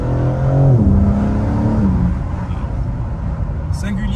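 Exhaust of a BMW M4 Competition revving, a deep engine rev that climbs and then falls away to a low idle rumble, close and loud.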